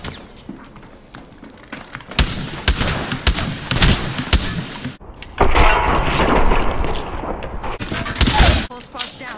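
Video game gunfire, likely from an EVO 8 shotgun: bursts of loud sharp shots and rapid fire in clusters, mixed with breaking-glass crashes and voices talking.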